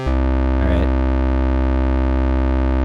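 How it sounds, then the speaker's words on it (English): A synthesizer with a sync oscillator sounds a sustained, buzzy sawtooth tone whose phase is retriggered, giving a steady, harmonically rich drone with a brief shimmering sweep near the start, loud and alone. "There's a sync, oscillator inside of this thing."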